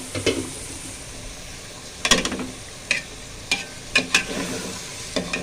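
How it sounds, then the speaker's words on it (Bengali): Rice fries in a pot for khichuri, with a low steady sizzle under sharp scrapes and clinks of a spoon stirring against the metal at irregular intervals, close and fairly loud. "চালটা দিয়ে দিলাম, এখন ভালো করে ভাজা নিব।"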